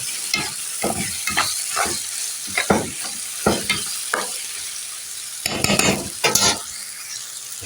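A spoon stirs a pepper mixture seasoned with salt, cumin and coriander in a sizzling pan, with a series of distinct, close scraping strokes in an uneven rhythm over a soft frying hiss and no voices.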